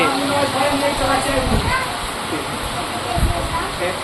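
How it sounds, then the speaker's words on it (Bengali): Heavy rain pouring down outside a shop during a downpour, a dense, steady hiss with splashing bursts from water hitting surfaces, close and loud throughout. "মুষলধারায় বৃষ্টি চলছে"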